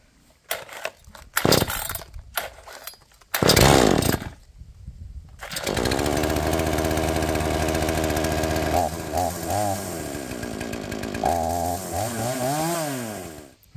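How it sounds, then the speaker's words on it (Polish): Chainsaw pulled by its starter cord: a few sharp rattling pulls and a brief sputter, then the engine catches and runs steadily close by, its pitch rising and falling as the throttle is blipped. "Za drugim szarpnięciem piła już się odezwała, więc wyłączyłem ssanie i za trzecim szarpnięciem odpaliła."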